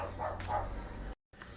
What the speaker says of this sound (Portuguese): tem uma paradinha pra prender a cachorrinha que ela tava latindo demais